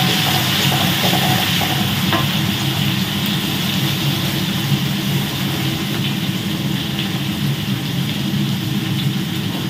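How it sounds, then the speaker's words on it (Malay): Pounded onions fry in hot oil in a wok, giving a loud, steady, close sizzle and crackle that runs unbroken throughout with no talking. "minyak kita tu panas dah, kita tumis bawang ni dulu lah"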